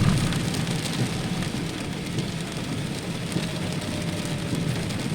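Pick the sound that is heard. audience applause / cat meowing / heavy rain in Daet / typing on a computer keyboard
heavy rain in Daet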